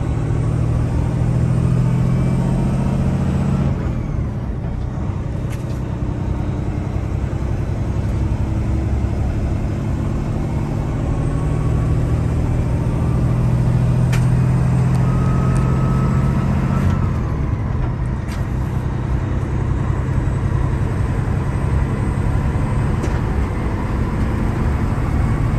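Brand new 18-speed truck engine running steadily while driving, a continuous loud low rumble with mid-range drone that dips briefly around gear changes, close and constant throughout with no talk.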